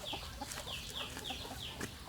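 Chickens and roosters on a farm in Isan, Thailand, a rapid series of sharp clucks repeating about every quarter second, fairly faint over a steady hiss of outdoor background, with no talk.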